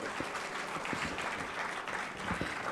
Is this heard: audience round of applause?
yes